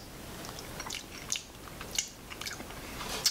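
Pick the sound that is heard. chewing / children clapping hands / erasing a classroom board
chewing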